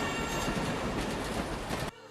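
A goods train runs on rails, a loud continuous rumble of wagons with rhythmic wheel clatter and faint squeal, passing close before cutting off abruptly near the end, no voices.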